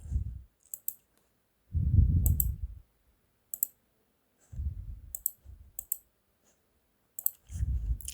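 Sharp computer mouse clicks tap out in small clusters at a desk, a few isolated clicks spread across the stretch, with low thumps and brief bursts of background noise between them and no speech.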